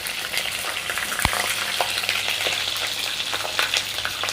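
Brinjal fries in a pan while being stirred, a close continuous sizzle with scraping and light knocks of a spoon against the pan, including one sharp clunk early on, and no voices.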